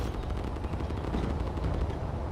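Field cannon firing in the Space Engineers video game, a dense continuous barrage of loud low booming blasts and rumbling explosions with no clear gaps, heard alone.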